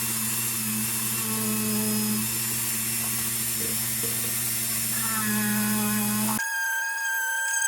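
A polisher buffs a vintage Bright Star flashlight with a loud, continuous motor whine and grinding contact noise that cuts off abruptly near the end, leaving a thinner, higher hum.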